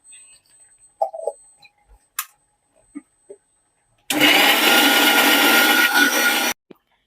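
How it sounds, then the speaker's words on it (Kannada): A kitchen mixer grinder whirs loudly for about two and a half seconds as it blends coriander leaves with water for a chicken gravy, following scattered clicks and clatter of the jar being set up. "ಸ್ವಲ್ಪ ಕೊತ್ತಂಬರಿ ಸೊಪ್ಪು ಹಾಕಿ ಇದನ್ನ ಮಿಕ್ಸಿ ಮಾಡ್ಕೊತೀನಿ"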